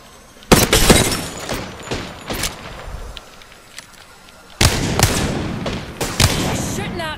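Rapid bursts of video game gunfire, loud and close, in two dense clusters of sharp repeated shots with a quieter stretch between them.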